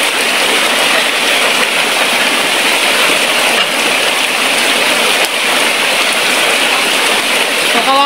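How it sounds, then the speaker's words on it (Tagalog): Heavy rain pouring down on a farm, a loud continuous hiss of dense drops drumming on surfaces close by, steady and unbroken throughout. "Grabe ang lakas ng ulan."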